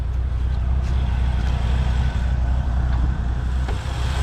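A 1961 Willys Jeep with a 302 V8 idles in a low, continuous rumble, heard up close and steady throughout, with no voices over it.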